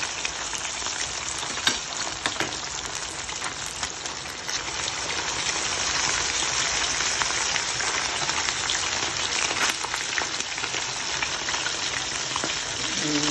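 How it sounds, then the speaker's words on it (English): King steak fish frying in a pan for brown stew, a steady dense sizzle that holds loud and even for the whole stretch, with occasional faint clinks and no talking. "Let them fry, catch a color."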